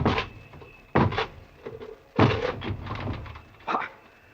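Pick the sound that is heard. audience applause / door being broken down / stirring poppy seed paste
door being broken down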